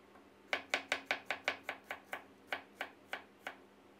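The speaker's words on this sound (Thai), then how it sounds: "ซอยหอมแดงต่อเลยครับหอมแดง5หัว" Shallots, five of them, sliced with a knife on a cutting board: a run of about fourteen crisp, evenly spaced chops, slowing slightly toward the end, close and clear against a quiet background.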